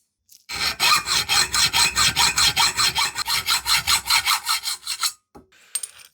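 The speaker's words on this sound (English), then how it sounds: "I'll rough cut 4 pieces, around about 20mm each" A hand saw rough-cuts small metal pieces for a 5-inch gauge Don Young Jack locomotive handrail. The steady, loud back-and-forth strokes come about four per second for roughly five seconds, then stop.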